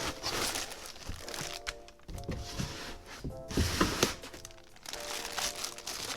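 Plastic wrap is peeled and crinkled off a new aftermarket car head unit for a Subaru WRX STI. Continuous close crackling and rustling comes in bursts, with brief pauses, and no talking.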